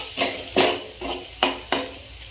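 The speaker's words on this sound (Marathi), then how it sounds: "छान मसाले फ्राय करून घ्यायचे।" Red chili powder and masala frying in a pan for spicy fried rice, with a handful of sharp scraping, clattering stirring strokes and a light sizzle underneath, close and moderately loud.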